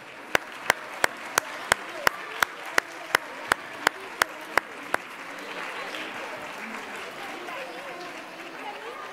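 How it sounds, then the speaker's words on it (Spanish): A run of sharp, evenly spaced single claps opens, then gives way to a softer, diffuse crowd applause with chatter at a local gathering in Marbella. "Otro aplauso para ellos."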